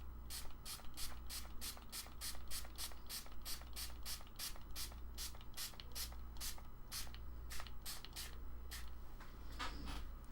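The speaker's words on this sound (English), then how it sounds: "Let's spray it and see if see what it does." A spray bottle mists water onto a watercolor painting of houses in a quick, steady run of about twenty sharp spritzes close by, over a low background hum with no speech.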